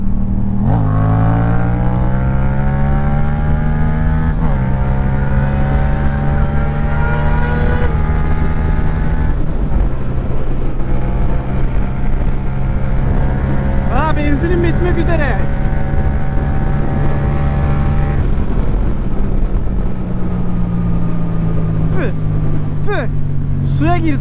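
Two sport motorcycles, a Yamaha R6 and an MT-07, accelerate hard along an empty road, their engines climbing through repeated rising gear pulls with loud, continuous wind-blasted roar from an onboard vantage.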